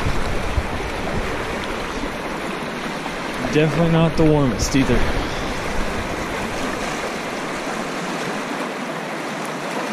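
A river flows in a steady, close rush of water that fills the whole stretch, and someone speaks briefly over it midway.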